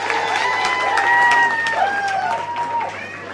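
An audience at an International Women's Day 2014 event in Leicester's Highfields Centre gives a round of applause, scattered claps running under a voice speaking over them.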